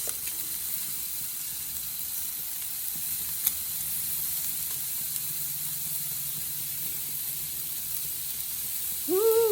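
Shrimp and bacon-wrapped pineapple sizzle quietly and steadily on a hot grill, a soft continuous hiss with a single faint tap partway through and a voice starting up at the very end.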